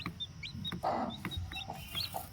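A native country hen clucks and newly hatched chicks peep in short, high chirps, several calls scattered throughout at close range.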